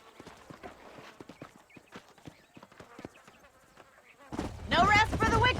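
Horse hooves clip-clop in the Red Dead Redemption video game, a steady rhythmic trot of several animals at moderate distance, followed by someone speaking near the end.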